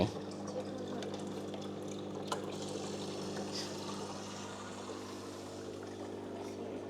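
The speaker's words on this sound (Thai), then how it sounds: "นี่น้ำจะไหลเข้าแบบนี้ครับ อ่า น้ำจะไหลไปแบบนี้นะ" An aquarium top filter for a 20–24 inch fish tank runs with a steady, soft trickle of water over a constant low pump hum, with no talk over it.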